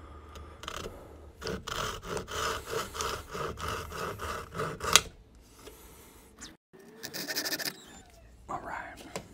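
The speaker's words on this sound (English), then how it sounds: "cut a 3/4 inch slot right here. And I'm gonna do that with a handsaw" A handsaw cuts a shallow slot into a small wooden piece in a workshop, worked gently in a rhythm of short rasping strokes. A brief pause comes near the end before a few more rubs and scrapes, with no talk over the sawing.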